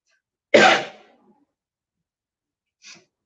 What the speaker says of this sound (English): Sorry, this is not the COVID cough.